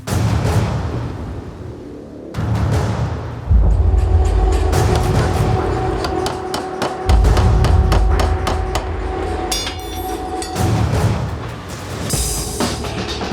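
A power hammer forges a steel axe blade, delivering rapid, loud, repeated metallic blows in bursts at close range, with a heavy machine rumble beneath and a ringing tone between strikes.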